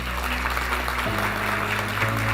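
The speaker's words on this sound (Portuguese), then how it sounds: "Você pode dar um aplauso a ele?" A church congregation applauds, a steady even wash of clapping that holds for the whole stretch, with a low sustained organ or keyboard tone shifting underneath.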